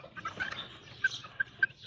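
Young backyard chickens about two months old, with red roosters among them, give several short, soft clucks in quick succession, close by and without talk.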